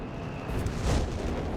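Artillery shells explode in the Company of Heroes 3 strategy game as a short, muffled, rumbling blast that swells and fades within about a second, with no talk.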